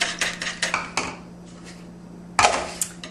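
Two eggs whisked in a bowl, heard as rapid clattering taps of a utensil against the bowl in a quick burst, a short pause, then another brisk round of clinking, close and clear.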